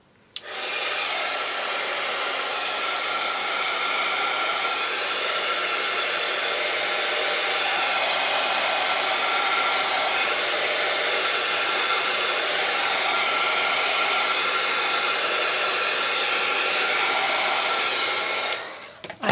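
A handheld hair dryer dries a piece of craft artwork, giving a steady, loud, close whir that runs unbroken for about nineteen seconds with no talking.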